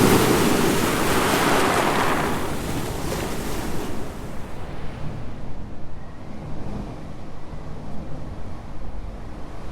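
Rough sea waves surge around a lifeboat rowed by men toward Elephant Island, a loud crashing wash that eases into a steadier churning rush with gusting wind noise.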